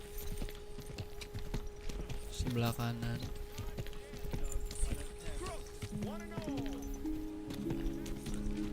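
Horse hooves clip-clop steadily at a walking pace in the video game Kingdom Come: Deliverance II, under soft ambient noise, with a brief spoken phrase partway through.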